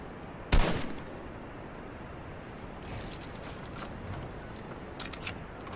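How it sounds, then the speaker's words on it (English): Gunfire in a video game: a single loud sharp shot near the start, followed by a few fainter, distant cracks over steady background noise, with no talk. "Oh, there's someone shooting at me."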